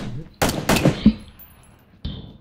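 Gunfire in the battle royale video game PUBG: two sharp, loud shots close together near the start, followed by a lighter, more distant report about a second and a half later, each trailing off quickly.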